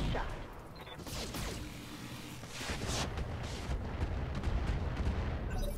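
Tank cannon fire rumbles in a Roguepoint battle video game, a series of deep booming shots and rolling blasts that overlap into a sustained, fairly loud barrage across the whole stretch.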